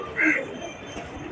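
Domestic pigeons give a brief soft coo near the start, with low mixed background noise and a voice faintly present.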